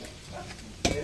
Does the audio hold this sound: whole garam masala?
yes